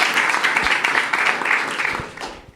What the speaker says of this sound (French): vous pouvez encore l'applaudir s'il vous plaît